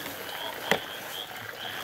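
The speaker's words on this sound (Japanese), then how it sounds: "そう、カエルの声しか分からないよね" Frogs croaking in the rain at night in a rural forest, a faint chorus under steady rainfall with one brief sharp click.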